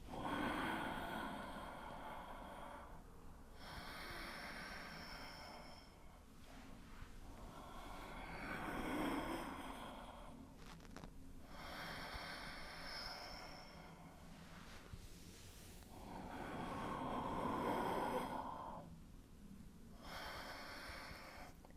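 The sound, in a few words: yoga breathing, inhaling and exhaling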